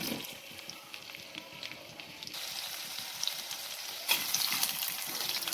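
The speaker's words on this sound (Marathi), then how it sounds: "आता हे छान लालसर असं भाजून घेऊया." Peanuts, green chilies and a little onion roast in a pan for a tomato chutney paste, giving a steady, moderately loud sizzling hiss that rises a little partway through and again near the end, with no talk.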